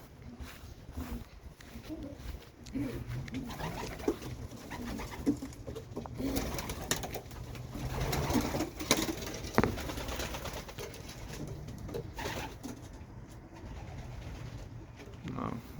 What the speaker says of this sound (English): Oh, beautiful birds.